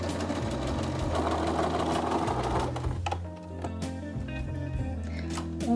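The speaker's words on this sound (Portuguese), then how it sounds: "E aqui a Fortunata está a costurar a pinça." A sewing machine runs steadily while stitching a dart in fabric, a loud, continuous mechanical whir with a rhythmic knocking beat, briefly slowing before resuming.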